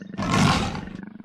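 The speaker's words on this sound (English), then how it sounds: "Like the other big cats, they have a great roar." A leopard lets out one loud, close roar that swells and fades over about a second, with no other sounds around it.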